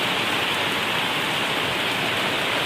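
Steady rain falls in a North Karnataka village, a dense even hiss that fills the scene without pause, close and loud, with no voices.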